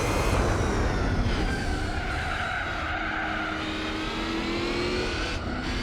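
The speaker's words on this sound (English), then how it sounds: "Beautiful sound of that Corvette V8." A Chevrolet Corvette V8 roars steadily in the Gran Turismo 4 racing game, loud and continuous at high revs with rising and falling engine tones and faint tire squeal, heard alone.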